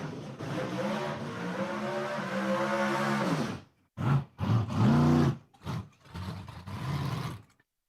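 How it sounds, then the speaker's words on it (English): A stick-shift Ford Mustang drag car at Empire Dragway screams at high RPM in a long loud pull, then fires off several short sharp revs before cutting out. "Listen to the RPM coming out of that Mustang in the left lane."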